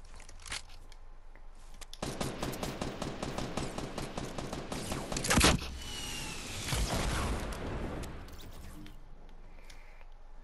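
Rapid automatic gunfire in a Fortnite match rattles in a dense, sustained burst, broken by a sharp loud crack midway and followed by a few more shots and clattering mechanical noise.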